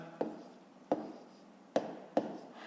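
Pen or chalk strokes while working a fifth-grade decimal subtraction exercise: four sharp, separate taps of writing spaced about every second, close and moderately loud, with no talk over them.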